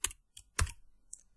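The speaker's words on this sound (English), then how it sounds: "they are typing here javascript" A few separate computer keyboard keystrokes, three or four sharp, close clicks spaced irregularly, heard alone.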